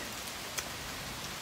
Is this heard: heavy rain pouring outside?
yes